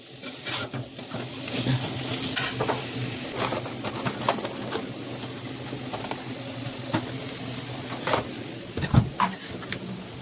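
Onions sizzle in oil left over from frying eggplant the day before, a steady close crackle with occasional stirring scrapes and clinks against the pan.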